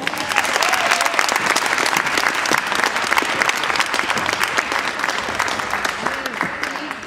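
A hall crowd gives sustained, dense applause to young gymnasts at a gymnastics competition award ceremony, steady and loud throughout with faint voices mixed in.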